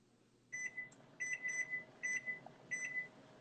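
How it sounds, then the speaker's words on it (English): A kitchen timer being set gives four short clusters of electronic beeps, faint and close, over low room noise with no talking. "Let me set a timer."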